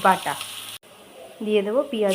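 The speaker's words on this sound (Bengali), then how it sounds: "সামান্য নাড়াচাড়া করে বাদামি করে ভেজে নেব পেঁয়াজ কুচিটাকে।" Chopped onions fry and are stirred in a pan while fish kalia is being cooked. A soft sizzle and occasional stirring scrapes sit beneath a prominent voice or melody, with a brief dropout in the middle.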